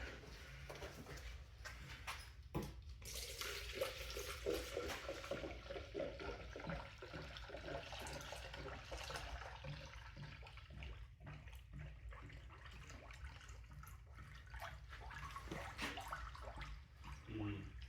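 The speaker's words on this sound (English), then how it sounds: "Time to toss some coolant in her." Coolant being poured into the radiator of a Toyota Tercel with a 3A-C engine, a quiet continuous gurgling, trickling flow with small splashes and clunks, low and fairly faint throughout.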